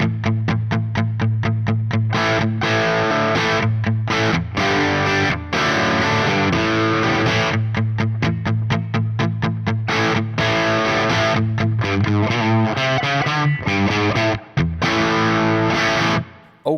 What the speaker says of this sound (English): Yeah, crunchy tones.